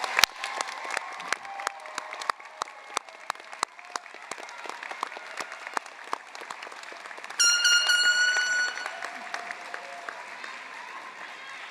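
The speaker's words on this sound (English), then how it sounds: "Let's have one more round of applause for all our graduates." Scattered hand claps rise into steady applause for graduates at an LSU College of Art and Design fall commencement, with a brief tonal tone joining partway through and the clapping continuing throughout.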